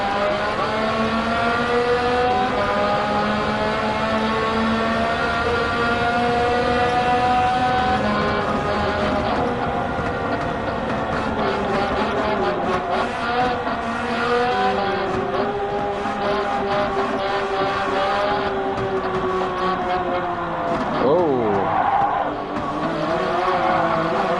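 Race cars roar through a Gran Turismo 7 cup race, one engine droning and rising through the gears close up, with tire squeal and a quick downshift near the end, steady and loud throughout.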